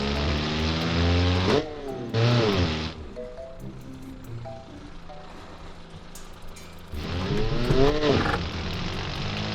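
A 500-horsepower Isuzu D-MAX diesel pickup in BeamNG revs in loud bursts with rising harmonic whine, drops to a low idle in between, then surges again near the end.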